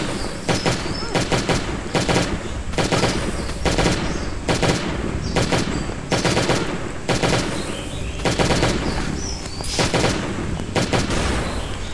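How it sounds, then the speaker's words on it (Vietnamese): Repeated bursts of automatic gunfire come from the Last Day on Earth: Survival video game during a hard-mode laboratory raid. The loud, rapid volleys are separated by brief pauses, and a faint voice sometimes sits under them. "Bắn khẩu súng này tệ thật đấy"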